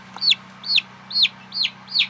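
Chickens clucking as they enter a new coop: five evenly spaced, loud, close calls over a steady low hum.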